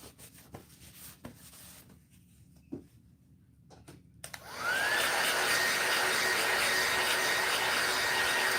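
A hair dryer switches on and blows steadily onto a freshly painted craft project, a loud close rushing whoosh after a few small taps and handling sounds.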